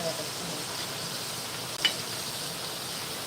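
Leafy vegetable frying on an iron griddle pan gives a soft, steady sizzle and hiss, faint and close, with one small clack of a utensil partway through.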